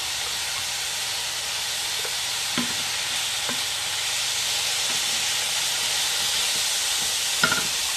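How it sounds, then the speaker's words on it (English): Cooked oyster mushrooms sizzle steadily in a hot pan, a constant close hiss with a few soft clicks and stirring knocks, no voices over it. "all I have to do is add our oyster mushrooms"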